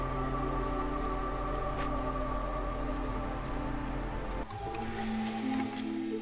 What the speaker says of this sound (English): Okay, Drizzle has arrived.